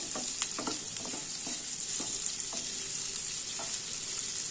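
Cauliflower chili fries in a pan with a steady, bright sizzle throughout, broken by occasional pops and the scrape of stirring.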